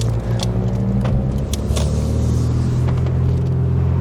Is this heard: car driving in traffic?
yes